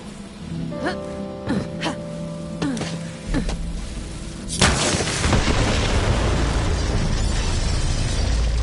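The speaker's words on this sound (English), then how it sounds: "The explosion echoed through the forest" An explosion in the video game Borderlands 3 that follows a few sharp impact hits: a sudden loud boom breaking into a long rumbling wash of debris and echo.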